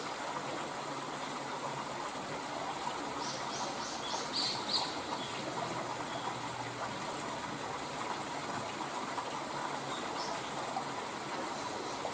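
Water gushing steadily along a coastal nature walk on the Miura Peninsula, a continuous rushing flow, with a few brief bird chirps faintly above it.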